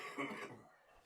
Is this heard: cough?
yes